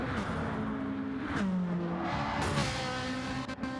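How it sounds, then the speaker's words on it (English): A race car engine roars steadily up close during an endurance race, with a couple of brief bursts of the car scraping cutting through the drone. "we heard a little scraping from, yeah, scraping from Topa's car there"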